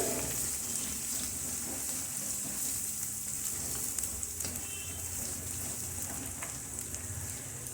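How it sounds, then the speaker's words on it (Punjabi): Ground garlic and ginger paste for kofta curry frying and roasting in oil in a pan, a steady dense sizzle with faint stirring scrapes, continuous and close throughout. "ਮਿਕਸ ਕਰ ਦਵਾਂਗੇ ਇਹਨੂੰ ਦੋ ਤਿੰਨ ਮਿੰਟ ਵਾਸਤੇ ਆਪਾਂ ਇਹਨੂੰ ਭੁੰਨਾਂਗੇ"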